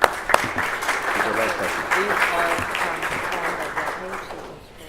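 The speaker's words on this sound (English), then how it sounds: "a round of applause for your support" Audience applause fills a chamber luncheon room, many hands clapping in a dense, steady wash with a couple of sharper claps at the start, fading toward the end, with voices murmuring underneath.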